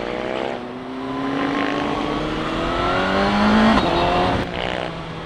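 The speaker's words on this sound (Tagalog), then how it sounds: "Testing nga tayo sa quick shifter." A CFMOTO 750SRS sport motorcycle accelerates hard through quick shifter upshifts, a loud close engine climbing in pitch and breaking with a brief cut at each shift, steady road noise beneath, no talk.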